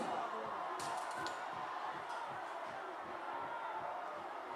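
A large crowd at the Grenada Soca Monarch finals produces a dense, continuous murmur of voices and cheering from a distance, with a few sharper shouts breaking through the steady din.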